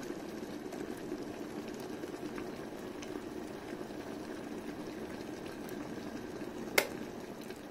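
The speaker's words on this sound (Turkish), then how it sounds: "Şu anda suyumuz kaynıyor." Water boils inside a Premier electric kettle with a steady low rumbling bubble and hiss, close and continuous, ending with a single sharp click near the end.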